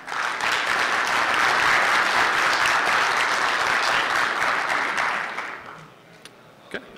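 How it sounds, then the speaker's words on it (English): A conference audience at a hacker security convention applauds a speaker with loud, dense, sustained clapping for about five seconds, then fades to scattered claps and near-quiet. "So please, everybody, give a huge round of applause for Ryan Lackey."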